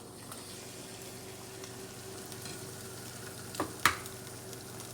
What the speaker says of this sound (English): I'm going to fry us a couple of eggs to go with it